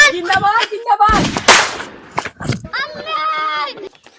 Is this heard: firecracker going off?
yes